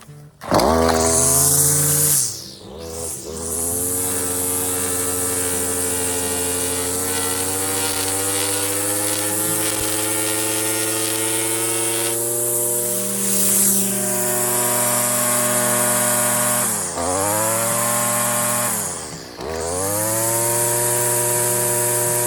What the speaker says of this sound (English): Now listen to them rev up as this string begins to shorten on this fence post.